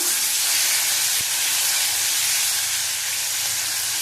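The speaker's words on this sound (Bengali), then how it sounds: "দেখো, ফোড়নটা ভাজা হয়ে গেছে। দিয়ে দেবো পেঁয়াজ।" Onion sizzling as it goes into hot oil tempering, a loud close steady hiss of frying that carries through the whole moment with no voices.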